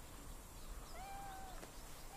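A cat meows once, a rising-then-falling wail that is clear but fairly soft, heard over a steady noisy background with no talking.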